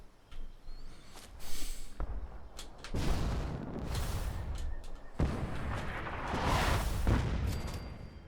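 In Fallout 76, an artillery shell bursts on a roof, producing loud rumbling booms, with a first blast followed by longer, heavier rolling explosions and debris rumble spread over several seconds, close and dominant with no talk.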